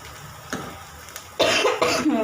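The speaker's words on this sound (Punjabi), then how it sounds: "ਖਾਂਸੀ ਵਗੈਰਾ ਬਹੁਤ ਜ਼ਿਆਦਾ ਹੋ ਗਈ" A few harsh coughs from a sick person with fever burst out loudly in close succession, preceded by a quieter, muffled cough.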